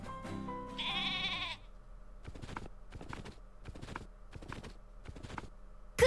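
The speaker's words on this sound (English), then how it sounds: "Here they come. Be careful, they are sheep." Sheep monsters bleat in the Atelier Ryza 2 video game, one long wavering bleat followed by a string of short, evenly spaced tapping hoof-like clops, fairly faint and with no talk.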